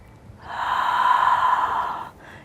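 A single deep, slow exhale during prenatal yoga, a breathy whoosh that swells over about a second and a half and then fades, close and calm with no talking.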